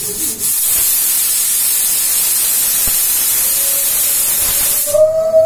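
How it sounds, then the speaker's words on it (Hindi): A pressure cooker with vegetable curry inside lets off its whistle, a loud continuous steam hiss for about five seconds that ends in a rising whistling tone, with no talk over it. "बस अब आ गया ये दूसरा सीटी।"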